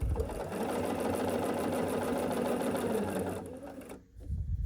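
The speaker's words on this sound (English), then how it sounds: "And then we're just going to sew a 1/4 inch seam allowance here." A sewing machine runs a quarter-inch seam on a scrappy quilt block with a fast, steady mechanical whir for about four seconds, then stops with a brief clunk.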